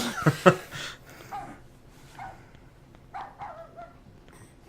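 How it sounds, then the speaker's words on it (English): A small yappy dog in the horror video game Rule of Rose gives a couple of sharp, close barks at the start, then fainter scattered yips and whimpers follow over a quiet background. "Sounds like a very small, yappy dog."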